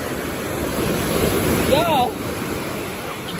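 Ocean waves break and wash at Virginia Beach in a continuous, loud roar with wind buffeting the microphone, and one person speaks briefly over the surf.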